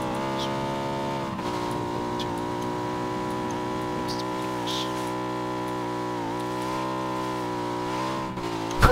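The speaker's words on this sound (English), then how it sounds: "I hear a vehicle" Vehicle engine in the PUBG video game, a steady mid-pitched hum that rises and falls slightly as it runs, heard throughout with no talking.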